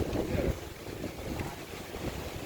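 Strong wind buffets the microphone at Jomtien Beach at night, a loud steady rumbling roar with gusts that rise and fall throughout, no voices heard.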